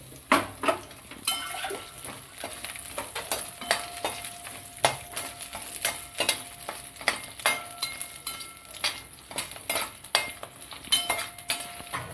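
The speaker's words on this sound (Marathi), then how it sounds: "खोबरं टाकू खोबरं आलं आणि लसूण थोडंसं परतून घेऊ" Coconut, ginger and garlic sautéing in a pan, with steady stirring scrapes and frequent sharp clinks of a spatula against the pan over a soft sizzle, close by and with no talk.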